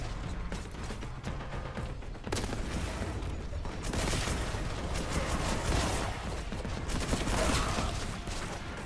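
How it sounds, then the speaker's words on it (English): Rapid bursts of gunfire from the Warhammer 40,000 Boltgun video game, set among mechanical clanks and ratcheting, loud and dense throughout with a sharp surge midway and no talk. "Oh, they shooting! They shooting!"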